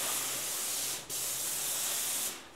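A paint spray gun hisses in a steady, close, loud burst during a bedroom renovation, breaks off for an instant, then sprays again before fading out at the end, with no voices.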